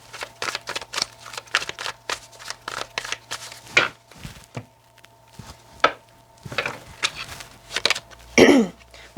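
Tarot cards being shuffled by hand, a series of quick riffling, flapping bursts in irregular rhythm with short pauses between them, close and fairly loud.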